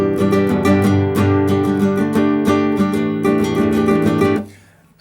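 Strummed chords played on an electric guitar with an unsuited tone, ringing steadily and loud for about four seconds before being cut off, with a brief sound just at the end.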